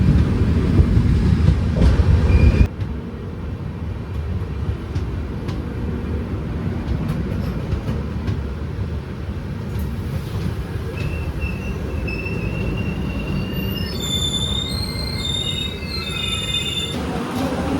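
The Mangaluru Express (16347) pulls out of Kollam Junction with a loud rumble of rolling wheels and rail noise, then high, piercing wheel squeals rise and shift near the end, with no talk.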